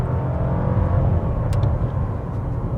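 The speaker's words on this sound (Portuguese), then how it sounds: "Eu vou sair no modo standard aqui e eu vou pisar fundo em 3, 2, 1." Nissan Kicks Sense 220T pulling away under hard acceleration in standard mode, a steady low engine drone and road rumble that stays fairly quiet and even throughout, with no voices.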